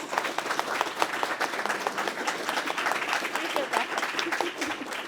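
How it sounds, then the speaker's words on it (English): Round of applause from the audience at an undergraduate history conference panel, steady dense clapping sustained throughout with some voices mixed in. "let's do a round of applause for our panelists"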